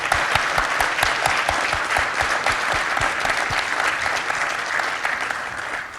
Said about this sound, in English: give them applause and a sign of our thanks